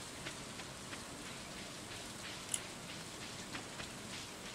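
Steady rain patters down in the game Stardew Valley, a soft even hiss of drops with faint scattered taps, with no voices.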